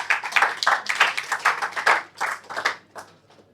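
A conference audience gives a round of applause for a speaker at an entrepreneurship session, with dense clapping that swells in waves and then thins out toward the end, fairly close and loud.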